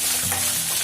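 Green chillies, ginger and garlic sautéing in a pan, with a steady soft sizzle and a brief stirring scrape near the middle, close and moderately loud.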